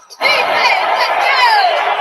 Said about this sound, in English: cheering on the Atlanta Falcons